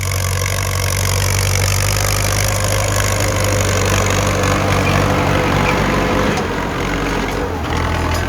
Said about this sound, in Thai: ผลงานรถไถฟอร์ดครับ